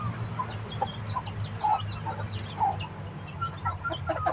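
Chickens cluck in a yard, a scatter of short, near clucks repeating irregularly over a low steady background hum, with no speech.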